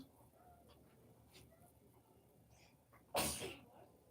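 One short, sharp sneeze bursts out near the end, loud against an otherwise quiet, faintly noisy room.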